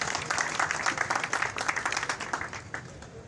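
Crowd applause at a gathering, dense and steady clapping with bursts throughout, fading slightly toward the end.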